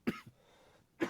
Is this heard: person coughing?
yes